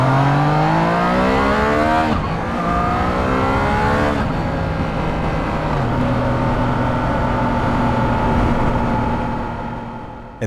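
Triumph Trident 660 motorcycle with a 660cc triple engine accelerating hard through the gears, loud and close, each upshift marked by a drop in revs before the engine climbs again, fading slightly at the end.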